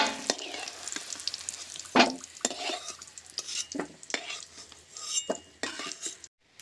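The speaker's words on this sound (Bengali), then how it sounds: "এপাশে না আলুটাও নেড়ে চেড়ে ভেজে নিয়েছি" Potatoes stir-fried in hot oil, a steady sizzle broken by repeated scrapes and clanks of a spatula against the pan, close and fairly loud, with no talking.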